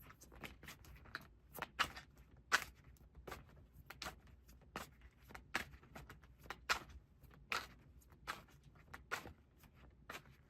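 Oracle cards are shuffled by hand in a quiet room, giving a string of soft, quick riffling and tapping bursts in uneven rhythm, close and faint, with no speech.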